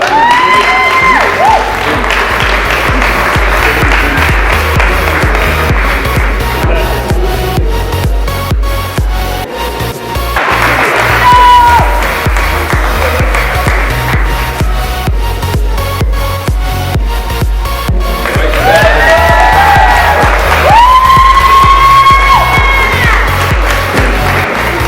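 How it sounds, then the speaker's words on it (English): A large outdoor crowd at a fitness day event in Zambia claps and cheers for athletes in a loud, sustained wash of applause, with shouts and whistles rising through it. "think the athletes deserve a round of applause"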